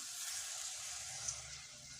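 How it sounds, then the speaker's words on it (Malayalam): Water poured into a hot pan of sizzling curry with onions and dried fish, made with ridge gourd; a soft, steady hiss and sizzle holds throughout at low volume with no talking. "വെള്ളം ഒഴിച്ചു കൊടുക്കാം"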